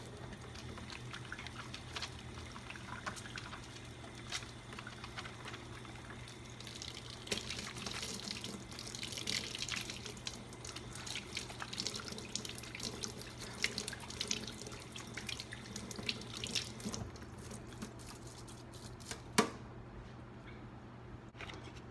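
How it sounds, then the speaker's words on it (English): Tap water runs steadily into a sink as hands are washed, a faint continuous splash with small drips and shifts, ending with a brief clunk as the flow stops. "And I'm gonna wash my hands."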